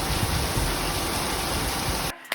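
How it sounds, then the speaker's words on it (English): Heavy rain in Nigeria pours in a dense, steady roar that ends abruptly, with no voices. "here's how it rains in Nigeria"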